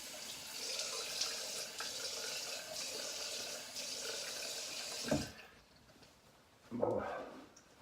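A bathroom tap runs steadily for a rinse after a single-edge razor shave, a faint continuous splashing stream that stops partway, followed by a couple of brief splashes of water.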